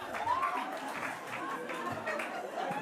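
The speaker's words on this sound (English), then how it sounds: "Let's give Orlando a round of applause for that." An audience at an official opening and ribbon-cutting ceremony applauds after a speech, soft steady clapping mixed with crowd chatter, moderately distant.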